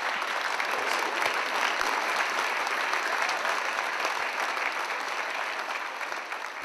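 Sustained audience applause after a horse training demonstration, a dense, steady wash of clapping from a crowd that carries on loudly for several seconds and eases off slightly toward the end, with no voices over it.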